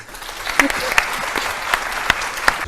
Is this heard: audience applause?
yes